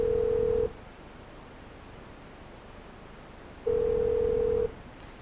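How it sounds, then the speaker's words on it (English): A desk telephone in a classroom setting, dialing an extension to transfer a call: two steady electronic tones, one short and one about a second long, separated by quiet line hiss, close and clear with no talk. "I'm going to press that key and then dial the extension number of who I want to transfer to."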